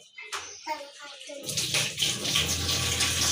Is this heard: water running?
yes